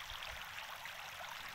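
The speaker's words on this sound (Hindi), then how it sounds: "वो एहसास लें जो ये आवाज़ आ रही है पानी के बहने से" Natural water flowing steadily outdoors, a soft continuous rushing hiss without pause, faint and even throughout.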